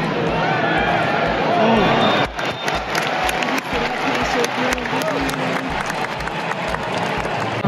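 Stadium crowd at a Vancouver football match claps in a steady rhythmic beat, with cheering all around, while someone talks close by over the noise.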